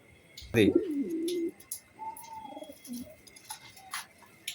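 Budapest racing pigeons give a near, fairly loud cooing call lasting about a second, followed by softer, fainter bird sounds and some background voices.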